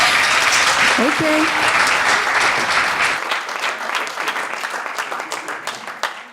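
An audience applauds a speaker in a dense, loud wash of clapping that thins after a few seconds into scattered claps, with a voice speaking briefly over the start.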